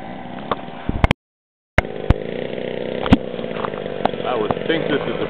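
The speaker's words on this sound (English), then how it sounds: "Here comes a Great Plains DR1, 60 size ARF." Great Plains DR1 60-size ARF model airplane flying at a warbirds fly-in in Delaware, its engine buzzing steadily at moderate distance for several seconds, briefly cut off by a gap of silence before resuming, with occasional sharp clicks over the drone.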